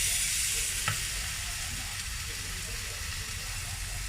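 A beef steak sears in a home frying pan with a loud, continuous hiss and sizzle that stays dense and even throughout, heard up close.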